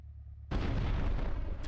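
A sudden deep blast erupts after a brief quiet moment and rumbles on loudly, a remote explosive detonating in GTA Vice City.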